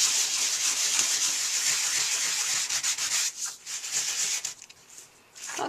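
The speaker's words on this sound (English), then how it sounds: "What we're trying to do is sand off this top layer of ink that we've applied" Sanding ink off dry-embossed cardstock, a steady gritty scratching rub in quick back-and-forth strokes, close and continuous, easing off in the final seconds.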